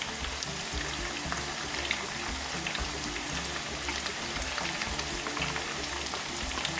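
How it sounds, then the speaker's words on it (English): Turkey pieces for a turkey curry fry in a reduced amount of oil, giving a steady, dense sizzle and crackle that runs without pause throughout. "So I'm going to fry it till it's dry"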